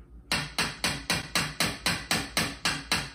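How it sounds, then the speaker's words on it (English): A hammer bangs in a steady rhythm, about a dozen loud, sharp, close strikes evenly spaced roughly a quarter second apart, with no speech. "You're hammering."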